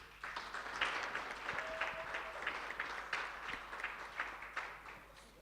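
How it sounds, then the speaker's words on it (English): An audience claps steadily for several seconds, a dense patter of hands filling the room at moderate volume, with no one speaking over it. "May we please give them a round of applause."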